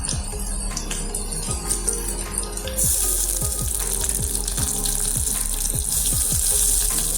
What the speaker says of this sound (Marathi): तुम्ही पाहू शकता आपला लसूण हा परतत आलेला आहे